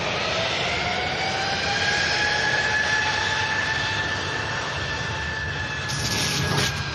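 A jet airliner inbound from Bratislava rolls in at Manchester Airport, its engines giving a steady, sustained roar with a whining tone that holds throughout, fairly close and loud.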